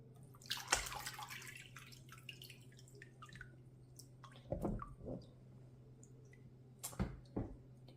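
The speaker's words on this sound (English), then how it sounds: "Splashed again." Water splashes and drips during hand papermaking, with a few sharp wet splashes and scattered drips spread over a quiet, faint background.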